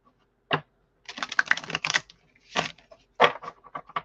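Deck of cards being overhand shuffled by hand, close and crisp, in several quick bursts of riffling clicks separated by short pauses.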